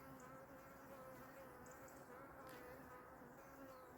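A steady bee buzz hums continuously at a low level at an apiary in Portugal, with a faint drone throughout and no talking.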